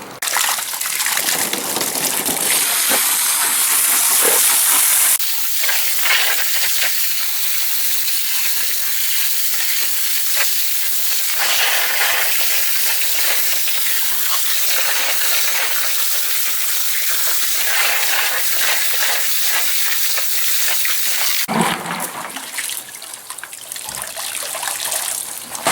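Water gushes steadily over wood mulch bought from a store, a loud, continuous hissing rush with trickling and splashing detail that shifts as the flow moves, then briefly eases near the end.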